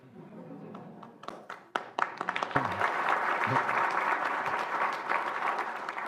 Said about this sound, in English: That's what that applause represented.